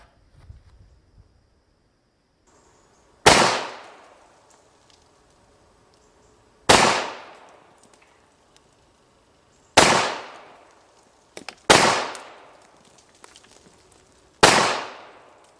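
Five sharp, loud .45 ACP shots from a WWII-era Remington 1911 A1 pistol, each with a quick decaying echo, fired at irregular intervals with two in quick succession near the end.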